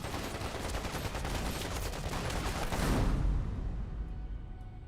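Dense, continuous gunfire exchange in a battle scene from an anti-Japanese war action drama, loud rapid bursts and overlapping shots filling the whole stretch, tapering off slightly at the end.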